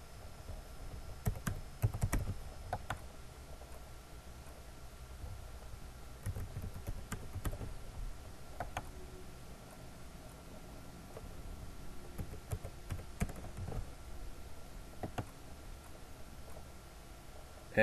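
Fingers type on a computer keyboard, with soft, quiet, irregular clicks and key taps coming in bursts over a low room hum.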